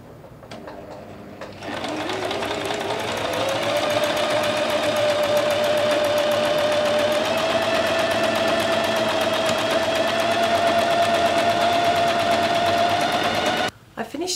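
A sewing machine stitching a fabric ruffle for a summer dress hums in one steady, fast run of stitches lasting about twelve seconds, close and even in pitch, with faint talk over it.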